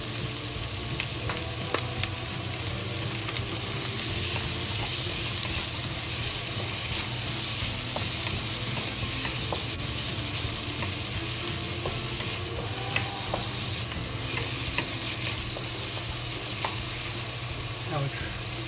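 Onions stir-frying with salt in a pot, a steady loud sizzle with scraping stir strokes throughout, no talking.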